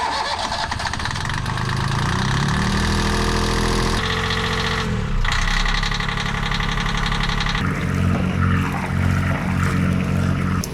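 A Yanmar 3GM30 marine diesel engine on a boat cranks and fires up, then settles into a steady, loud, rattling idle that continues throughout.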